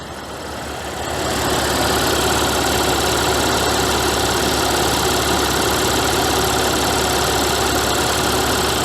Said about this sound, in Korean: 먼저 엔진 아이들링입니다